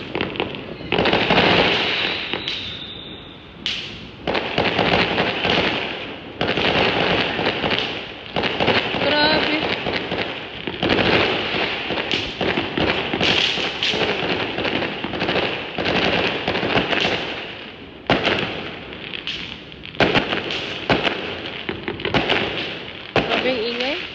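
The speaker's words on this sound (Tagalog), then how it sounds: "Ayan, magpaputok sila." Firecrackers and fireworks set off on the last day of Chinese New Year, a dense, continuous barrage of loud crackling bursts and pops with occasional thuds, a voice talking intermittently over the din.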